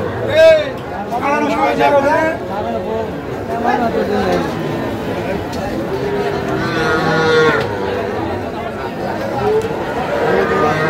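Cattle at a busy cattle market moo repeatedly, with loud, drawn-out lowing calls overlapping a constant babble of people chatting and bargaining nearby.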